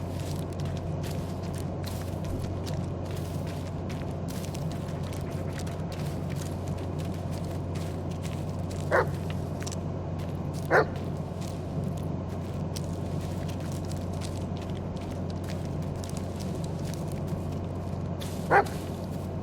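A dog in the Blair Witch horror game on PC gives a few short yips and whimpers, spaced apart over a steady low ambient drone and crackling noise.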